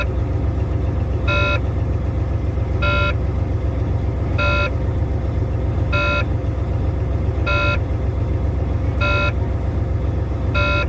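A semi tractor truck idles with a steady low engine rumble while its air pressure builds, and a regular electronic beep sounds about every second and a half over the running engine.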